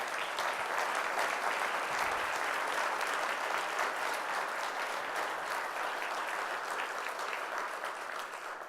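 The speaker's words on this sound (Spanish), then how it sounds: "Yo les pido un aplauso a ellos," Sustained applause from an audience at a university book presentation on the criminal justice system, a dense steady wash of clapping hands that stays loud and even for the whole stretch with no voices over it.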